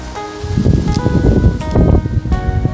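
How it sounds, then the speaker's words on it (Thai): Strong wind sweeps through the leaves of a home garden, a loud, steady rustling that surges in gusts, with a few brief tonal sounds mixed in. "ลมแรงวันนี้"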